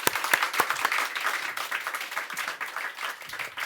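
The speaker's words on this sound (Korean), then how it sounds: "우리 모두 다 축하의 박수를 뜨겁게 올려드리겠습니다" A church congregation claps in celebration at a founding thanksgiving service, a brief burst of lively, scattered applause from a sizable crowd that carries on steadily for several seconds.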